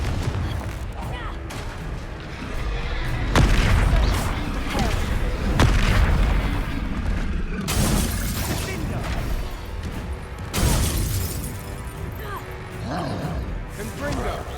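Confringo fire spells from the game Hogwarts Legacy burst in several heavy booming explosions with crashing debris, spaced a few seconds apart, while a character's voice shouts over the action.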